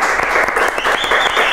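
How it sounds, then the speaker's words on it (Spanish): A studio audience at a TV show claps loudly for a brief moment, a dense, close burst of many hands applauding together. "Aplauso para la Marilleta."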